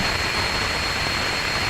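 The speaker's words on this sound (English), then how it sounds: "That is a healthy Rutherford engine startup." A steady, loud roaring rush from a Rocket Lab Electron Rutherford rocket engine starting up during a launch, heard as a continuous broadband blast with no pauses.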